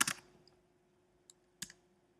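Keys pressed on a Mac keyboard for the Command Spacebar shortcut: a quick cluster of clicks at the start, then a lone soft tap and a sharper double click later, close and clear against near silence.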